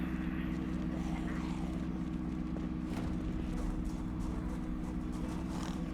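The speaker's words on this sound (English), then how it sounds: "I'll leave the engine running so I can get out quick if I need to" A parked car's engine idles steadily in Project Zomboid, a low continuous rumble that runs unbroken and fairly loud throughout with no talk over it.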